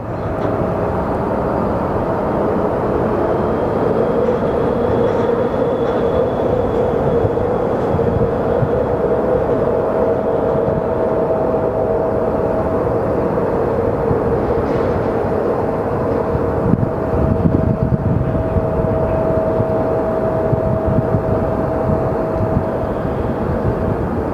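A Southwest passenger airplane lands at Phoenix Sky Harbor Airport, making a steady, loud, unbroken roar with a faint whine that holds for the whole stretch.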